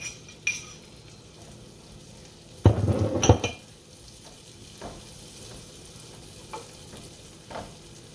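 Pepper slices fry in butter in a pan with a soft steady sizzle, broken by a short burst of loud stirring and clinking utensil clatter, then a few scattered light taps.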